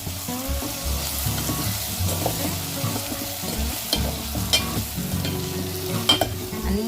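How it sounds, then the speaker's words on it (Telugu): A spoon scrapes and stirs through mutton soup in a pot as salt, turmeric and chili powder are mixed in, over a steady close sizzle with occasional clinks against the pot. "అన్నీ చక్కగా కలిపేసి"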